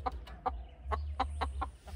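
A black rooster gives a series of short, evenly spaced clucks at close range over a low, steady background hum.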